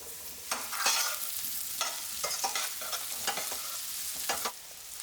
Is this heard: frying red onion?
yes